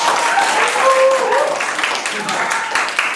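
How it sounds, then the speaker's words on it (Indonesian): Audience applause in a university lecture setting, dense steady clapping throughout with voices talking over it. "Wah, tepuk tangan nih"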